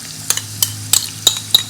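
Ginger and garlic paste going into a pan of cooking onions, with a soft steady sizzle under a rhythmic series of close metallic clinks and scrapes from a utensil against the pan.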